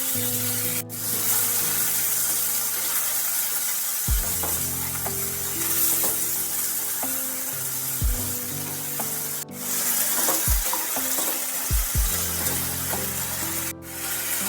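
Cut potatoes sizzle and fry steadily in a kadai, a continuous hot crackle with occasional louder spatters and a few clanks of stirring, with no talking.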